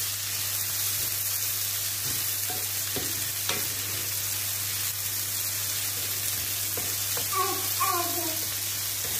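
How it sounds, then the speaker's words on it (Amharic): Onion, garlic and chicken fry in a pan with a steady soft sizzle, broken by a few scraping stirs and clinks of a utensil, fairly quiet and close. "እንደዚህ እየተጠበሰ ነው ሽንኩርቱ፣ ነጭ ሽንኩርቱ እና"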